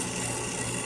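A drill press spins a brass wire brush against a metal part from a 2007 Toyota Sequoia, giving a steady, close, whirring scrub with a constant motor hum.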